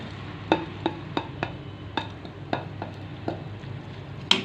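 Vegetables and egg sizzle in hot oil in a kadai over low heat, a soft steady frying hiss punctuated by regular sharp scrapes and taps of a spatula stirring against the pan, close and fairly quiet.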